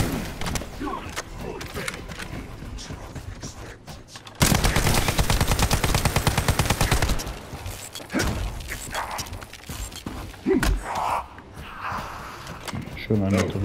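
Bursts of gunfire in the sci-fi shooter The First Descendant, a loud stretch of rapid repeated shots in the middle with scattered game effects around it, someone talking over parts of it.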